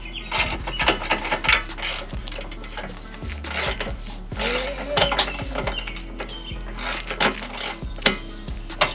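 A ratchet socket wrench with a deep socket and extension clicks in repeated bursts while bolting Rough Country AL2 drop side steps onto a Ford Bronco, with metallic clatter and tool handling in between.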